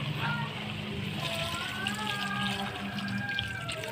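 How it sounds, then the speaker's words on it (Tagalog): Water splashes steadily into a cooking pot of pork simmering with salt and pork cubes, a soft continuous pour heard close and fairly quiet. "Dagdagan na rin natin ng tubig."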